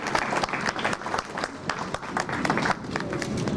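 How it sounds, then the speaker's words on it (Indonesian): A crowd at a modern art exhibition applauds steadily, dense overlapping claps forming a continuous wash of sound that holds strong throughout. "Tepuk tangan Bapak-bapak dan Ibu"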